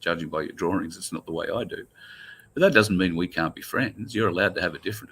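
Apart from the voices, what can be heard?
None of the usual background noises is heard.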